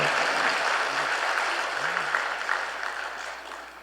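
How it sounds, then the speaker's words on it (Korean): Congregation applause at a Sunday church service: a steady, moderately loud wash of many hands clapping that slowly fades toward the end, with a faint voice briefly audible underneath. "우리 박수 한번 쳐드립시다"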